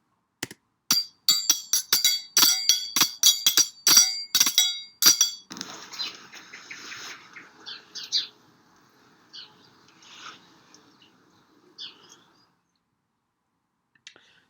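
Sound effect cue in a QLab theatre playback shifting from a sharp, rapid run of metallic clinking battle hits into lighter, scattered bird chirps that fade out toward the end.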